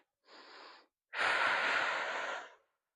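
Two audible breaths during a core and rib bracing exercise: a short soft one, a pause, then a longer, louder, airy inhale, close and alone.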